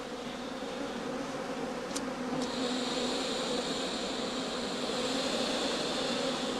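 Bees hum around a traditional woven skep hive in late autumn, a dense, steady buzz that holds evenly throughout with a couple of faint high clicks near the start.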